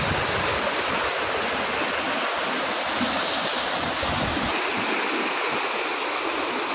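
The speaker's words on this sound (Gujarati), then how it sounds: "આ એવું લાગે નહીં કે વરસાદનું પાણી છે અને ખેતર છે એવું લાગે જાણે બહુ મોટી કોઈ નદી છે" Floodwater rushing across a submerged rice paddy like a river, a steady loud broadband roar of flowing water that continues without pause and has no voices over it.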